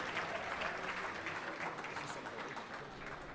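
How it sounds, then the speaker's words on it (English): Audience at a conservative conference in 2023 applauding panel speakers, a continuous wash of many hands clapping, distant and faint, holding steady through the whole stretch. "A big round of applause for Officer Brandon Tatum, Sheriff Alex Villanueva, Sheriff Chad Bianco, and DA Mike Hestron."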